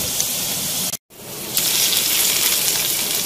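Loud hissing sizzle of hot oil tempering poured onto kadhi pakora curry, briefly broken by a silent gap, then a stronger crackling sizzle that continues steadily.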